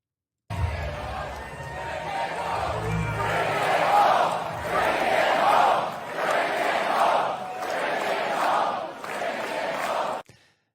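Large political rally crowd cheering and chanting in steady surging waves, loud and close throughout the pan, with a rhythmic rise and fall of massed voices and no individual speech standing out.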